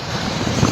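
Strong wind by Manila Bay roars as a continuous rushing gust buffeting the microphone, loud and unbroken with no voices.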